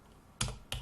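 A command typed on a computer keyboard, two quick, close key-press clicks after near silence.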